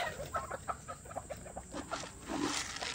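Chickens clucking softly in repeated short calls on a small farm, with faint background noise and a slightly louder cluck near the end.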